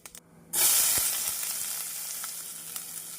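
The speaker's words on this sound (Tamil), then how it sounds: "எண்ணெய் காயவும் கடுகு உளுந்து ஜீரகம் போடலாம் பொரியவும்" Mustard seeds, urad dal and cumin drop into hot oil and start hissing and crackling, a steady sizzle with small pops going on for a few seconds.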